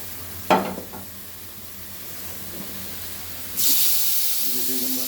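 Eggplant and potato frying in a pan after tilapia fish, starting with a sharp clatter, then a quiet stretch before a loud hiss of sizzling oil bursts in and continues near and steady.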